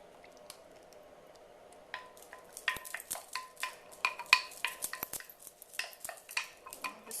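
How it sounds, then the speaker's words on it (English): Sauce is poured and spooned over meatballs in a baking dish, giving a string of wet squishes and light clinks that build after a quiet start, with no talking. "So now what I'm going to do is pour sauce over the meatballs."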